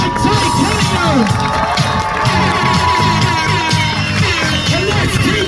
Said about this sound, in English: let's keep that screaming going for all these top 3 and all the top 8